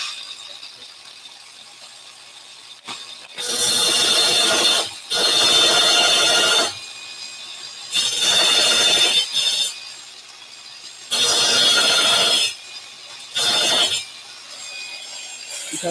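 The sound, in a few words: cutting disc running on tile, making a big noise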